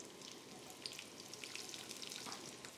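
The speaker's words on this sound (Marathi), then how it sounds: "यात कांदे पण आपण तळून घेऊ." Onions fry in oil in a pot with a close, continuous sizzle and scattered crackling spits, and nobody speaks.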